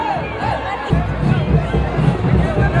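A dense crowd packs a street at the Moka Jathra temple chariot festival in Ballari, a loud continuous murmur of many voices close by with occasional louder shouts rising above the babble.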